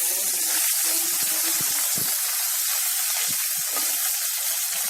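Small shallots dropped into hot oil for mutton soup sizzle with a loud, continuous hiss that holds steady throughout, with faint low pops and crackles beneath.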